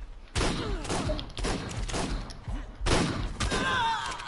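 Repeated bursts of simple pistol fire in a PvP match of the video game ARK ring out in quick irregular shots, loud and close, with several rapid volleys over about four seconds and brief gaps between them.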